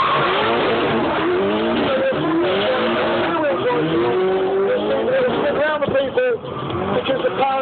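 All-wheel-spin car drifting, tires squealing in long wavering whines over a loud revving engine, the squeal rising and falling continuously, with a person talking throughout.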